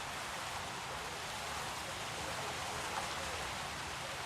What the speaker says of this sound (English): I don't know how they can get rain like this